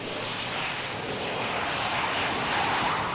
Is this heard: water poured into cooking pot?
no